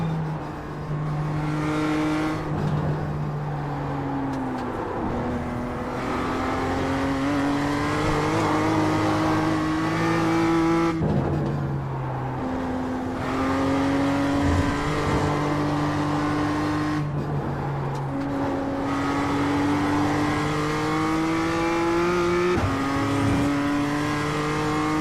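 A BMW M2 laps a race track, its engine revving up through the gears with steady climbing tones broken by sharp shifts and lifts, loud and continuous from inside the car.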